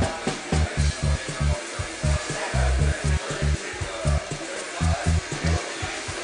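MakerBot 3D printer running in a Manhattan store, a rapid train of rhythmic motor buzzes and short stepping pulses over a steady fan hiss, close and fairly loud.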